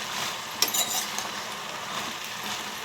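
Eggplant and chana dal curry stirred in a pan, with a soft steady sizzle and a brief scrape and clink of a spoon against the pan near the start, otherwise faint and even.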